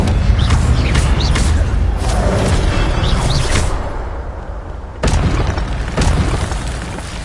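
A fiery Incendio spell cast in Hogwarts Legacy, a loud booming whoosh of flame with a rolling roar, followed by sharp bursts and crackling impacts up close.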